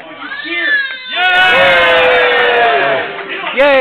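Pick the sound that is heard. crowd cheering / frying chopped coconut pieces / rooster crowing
crowd cheering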